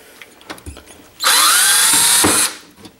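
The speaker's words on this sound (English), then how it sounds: "the drill bit slipped a little bit" A power drill bites into a workpiece in one loud whirring burst of just over a second, starting abruptly and winding down, with quiet handling knocks before and after.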